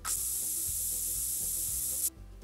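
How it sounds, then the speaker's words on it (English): Scent eliminator spray in the hunting game theHunter: Call of the Wild, heard as one steady, loud hissing spray lasting about two seconds before cutting off abruptly, over a faint low ambient rumble. "I've been sitting here spraying myself with scent eliminator"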